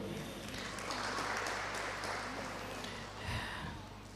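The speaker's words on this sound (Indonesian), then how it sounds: "tepuk tangan untuk Sema dan Dema sebelumnya." Audience applause at a student council inauguration ceremony at a university faculty, a faint, steady patter of clapping heard from a distance over a low hum, with a brief thump near the end.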